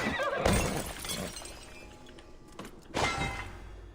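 Horse in Assassin's Creed Valhalla while its rider mines from horseback: sharp breaking, shattering impacts at intervals with a whinny-like burst near the start, close and loud against a quieter background.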